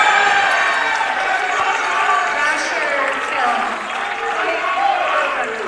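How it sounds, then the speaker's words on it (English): A crowd at a college volleyball match cheers and applauds for Ramapo in a steady roar, with voices and shouting blended throughout. "we got a little bit of a cheering section here for Ramapo"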